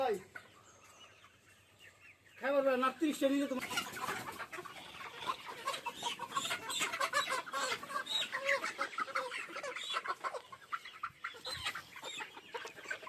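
Sonali chickens on a poultry farm start clucking loudly after a quiet opening, a dense, continuous chorus of many birds close by.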